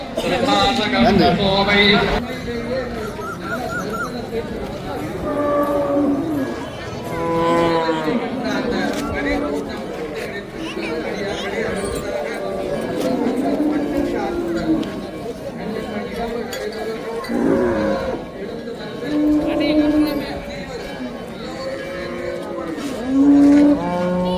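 Cattle mooing at a large Mattu Pongal gathering of more than 500 cattle in Jaffna, with scattered low moos mixed into dense crowd chatter, clinking and loud outdoor bustle throughout.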